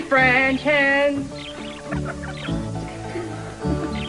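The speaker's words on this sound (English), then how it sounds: "3 French hens." Hens cluck and call loudly up close in a rapid, overlapping burst, settling into lower, choppier clucking with occasional sharper squawks.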